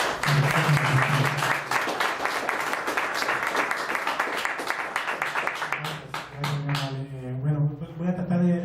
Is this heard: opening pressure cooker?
no